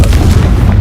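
The Confringo blast spell explodes in the Hogwarts Legacy video game, a single loud, close, deep boom that fills the short moment with rumbling low end.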